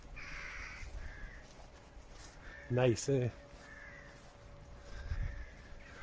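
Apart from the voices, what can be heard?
crows cawing at Balvenie Castle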